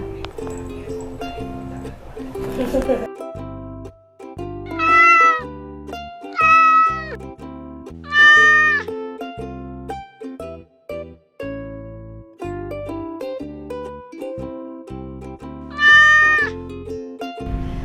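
Cats meow repeatedly at a Thai Buddhist temple, Wat Phosop Phon Charoen in Pathum Thani, during feeding. Several loud, drawn-out close meows rise at intervals over a steady background murmur, with no speech.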